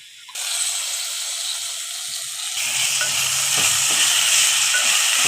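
Potatoes tossed into a pan for a brinjal and potato curry set off a bright sizzle that jumps louder partway through, with scraping stir sounds under the steady hiss, no talking.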